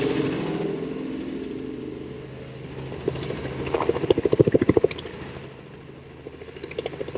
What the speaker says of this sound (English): The helicopter's just landing there now.